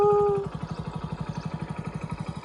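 A motorcycle engine runs at a fast, steady putter after a short high tone fades, its regular pulsing exhaust close and moderately loud throughout.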